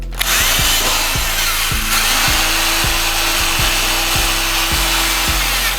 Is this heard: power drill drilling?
yes